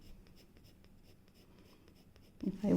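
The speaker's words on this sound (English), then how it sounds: "if I want dark, I'll increase the pressure on the pencil." A pencil shades across paper, pressure increasing for a darker tone: soft, rhythmic scratchy strokes, quiet and close, building into louder, rougher scraping at the end.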